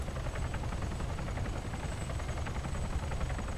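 Helicopter in the military video game Arma 3, a steady, moderately quiet rotor drone with a low rhythmic thrum that holds evenly the whole time, alone without speech.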